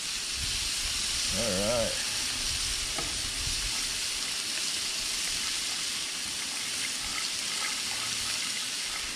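Walleye fillets frying in butter on a Blackstone griddle, a steady bright hiss and sizzle throughout, with a brief spoken remark near the start.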